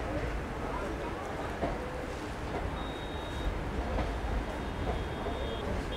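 A passenger train, the Jansewa Express, pulls into platform two at Kiul Junction, a continuous loud low rumble and rattle of wheels with station noise and a faint whistle-like tone.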